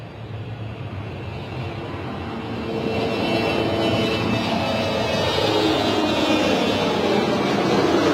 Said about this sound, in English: KLM for departure